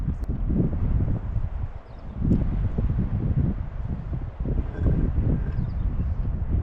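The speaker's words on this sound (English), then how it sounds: "that wind is kicking up" Gusty wind outdoors buffets the microphone in heavy, low rumbling surges that rise and fall throughout, with no voices.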